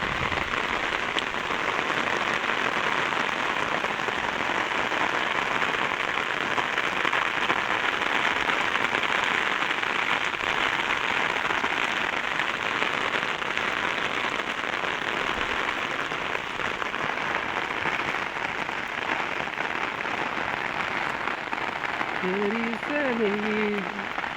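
Heavy rain falls on surfaces in Kadthal as a loud, continuous roar. Near the end a faint voice or call rises briefly above it.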